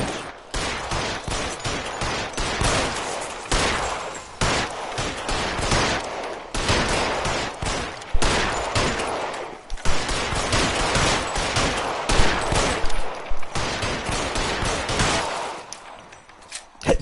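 Sustained gunfire in the video game L.A. Noire, a dense, loud fusillade of rapid shots and bursts rattling on almost continuously for the full stretch with brief uneven gaps.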